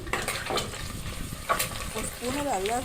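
Boiled eggs frying in oil with salt, turmeric and chili powder for egg biryani masala, a steady sizzle broken by stirring scrapes while a person talks over it.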